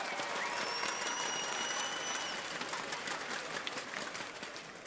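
A large esports arena crowd at BLAST Pro Series Miami cheers and applauds for Team Liquid, a dense, steady roar of clapping and shouts with a thin whistle rising over it, slowly easing off toward the end.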